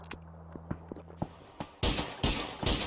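Gunfire in the video game PUBG, starting as a few isolated sharp cracks and then breaking into loud rapid bursts near the end, close and punchy with brief gaps between volleys.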